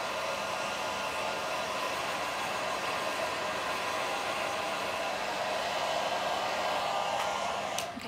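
A blow dryer blows steadily while drying hair, a constant loud whooshing hiss heard close up for the whole stretch, with no talk.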